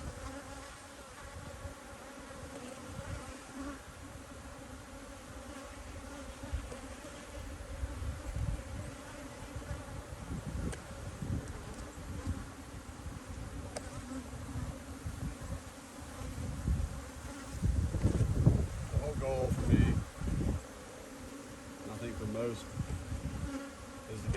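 Honeybees buzz steadily at an apiary hive being treated for mites, a dense continuous drone with swells and a louder burst near the end, no voices.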